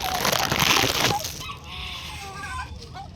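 Chickens and roosters cluck and call close by, with a loud rustling burst at the start and a few short fowl calls after it. Someone speaks briefly in the background.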